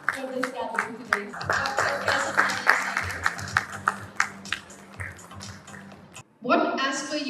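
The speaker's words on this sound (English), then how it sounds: "So please, can we have a round of applause?" Audience at a large HR conclave in Chandigarh breaks into steady, dense applause that runs for several seconds, then fades out as a voice starts speaking.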